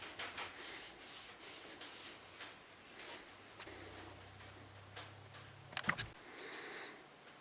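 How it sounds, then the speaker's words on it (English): A cloth buffs excess tung oil off a spalted maple knife handle in soft, faint rubbing strokes, followed near the end by a brief sharp clack. "I'm going to buff this excess tung oil off of here so that it doesn't get sticky"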